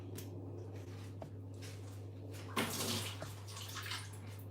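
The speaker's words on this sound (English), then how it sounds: "Let me just throw this water away" Water from a tofu package being poured out, a brief splashing gush around the middle over a steady low electrical hum, with faint handling noises before and after.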